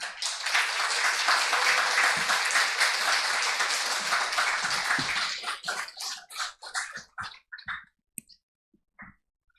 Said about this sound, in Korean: 우리 목사님이 나오실 때 우리 박수로 환영하겠습니다